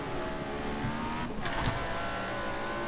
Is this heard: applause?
no